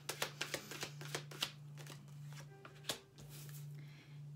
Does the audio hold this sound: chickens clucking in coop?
no